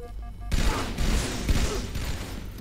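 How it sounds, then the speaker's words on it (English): Gunfire in a Halo 2 match at a competitive qualifier, a dense sustained burst of rapid weapon fire starting abruptly and staying loud and continuous, with no talking over it. "Tries the alternate route, but Fattystuff puts shots on him."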